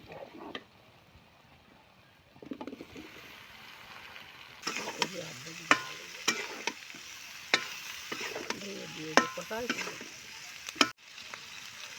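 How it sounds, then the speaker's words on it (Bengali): Cauliflower and potato fry in spiced masala in a pan, crackling and sizzling at moderate volume with sharp stirring clicks and scrapes, quieter at first, then busier. "মশলা কষা নিয়ে গেছে এর বাজা ফুলকপি আর আলু দিয়ে দেবো"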